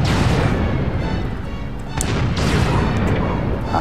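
Heavy booming blasts of a magic cannon fire repeatedly over a dense, noisy rumble in the video game Dragon Quest Heroes, loud and continuous.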